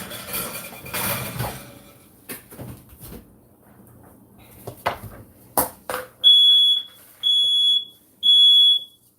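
Three loud, high-pitched electronic beeps from a smoke alarm, evenly spaced, following quieter kitchen clatter and rustling while meatloaf and rolls cook in a home kitchen.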